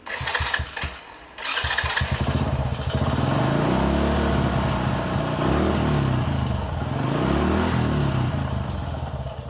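A Honda Wave 100 motorcycle engine, its stock charging regulator just swapped, starts with a few sputtering cranks and then revs up and down in repeated rising and falling sweeps. The revs are loud and close, with no voices.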